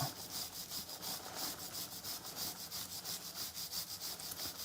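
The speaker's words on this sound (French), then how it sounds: "Ça permet vraiment de nettoyer la chaîne en profondeur." Stiff brush scrubbing the chain of a KTM SX or EXC dirt bike, the chain held under slight tension, giving a steady, close rhythmic back-and-forth rasping with regular strokes throughout.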